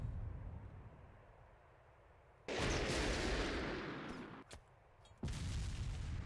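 Missile launcher firing in Arma 2, a military sim: a quiet rumbling backdrop breaks into a loud, roaring launch blast, followed by a sharp crack and another heavy roaring burst near the end.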